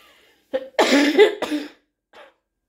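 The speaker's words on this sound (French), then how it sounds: "Pardon pour la toux." A single person coughs a few times in quick succession, close and fairly loud, then a faint final cough after a short pause in near silence.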